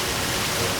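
Steady, dense rushing water noise of a hot, steaming waterfall in a cartoon, continuous and fairly loud with no breaks.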